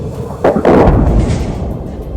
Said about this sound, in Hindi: इस बीच रूस की सेना ने वहां एक बार फिर बमबारी शुरू कर दी।